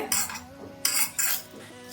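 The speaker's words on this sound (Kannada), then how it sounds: "2 ಮೆಣಸಿನ್ಕಾಯಿ ತಗೊಂಡಿದ್ದೀನಿ, ಇದನ್ನು ಸ್ವಲ್ಪ ಹುರ್ಕೊಂತಾ ಇದ್ದೀನಿ." Green chillies roasting in a pan, a metal spoon scraping and clinking against it in several sharp bursts with quiet gaps between, close and clear with only a hint of sizzle.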